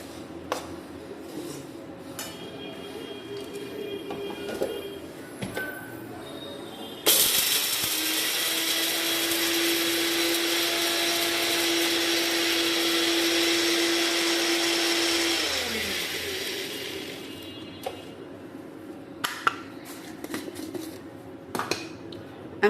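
An electric mixer grinder grinds cloves and black pepper into a paste, starting abruptly with a loud, steady high whine that holds for about eight seconds before winding down, with quiet kitchen clatter before and after.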